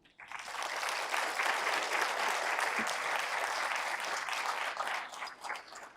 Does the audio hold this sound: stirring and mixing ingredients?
no